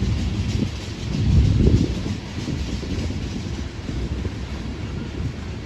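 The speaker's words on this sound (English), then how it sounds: "I get another train in before I leave this area. And it's a big one." A long freight train rolls past near a rest area, giving a loud, continuous low rumble with steady rattling that swells briefly and then holds even, with no talking.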